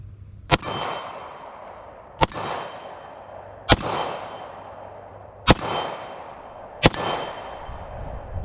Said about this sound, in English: Next, we'll shoot the P89.